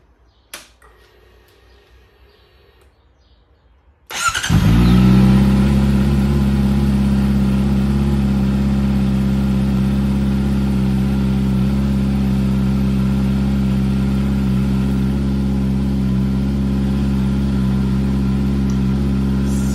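A cold Honda CBR650R with an Ixil exhaust starts after a few quiet seconds and settles into a loud, steady idle that runs on evenly and close by.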